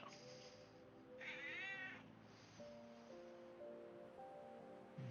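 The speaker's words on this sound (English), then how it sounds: "pet her and she just makes this loud meow because she wants to be a pain" A cat lets out a loud, drawn-out meow, close by, over a steady low background hum.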